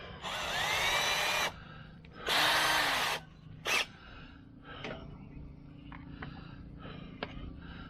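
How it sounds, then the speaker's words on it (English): Power drill driving a bit into a wall to make mounting holes for a battery charger, three short loud whirring bursts close by, followed by quieter handling clicks and taps. "Let me put this bit in this drill."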